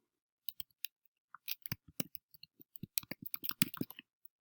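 Light, irregular clicks of keys being tapped on a computer keyboard, close and quiet, speeding into a quick flurry of keystrokes near the end with no talking.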